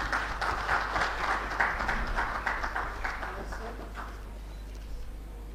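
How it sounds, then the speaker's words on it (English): An audience applauds a speaker at a formal event: a dense, steady patter of clapping that holds for about four seconds, then thins and fades into quiet room tone. "Can we please have a big round of applause,"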